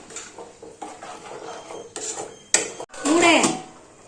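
A metal pot is set onto a dosa tawa on the stove for dum cooking mutton biryani, giving a series of close clanks and scrapes of metal on metal, ending with a louder clatter and ringing scrape.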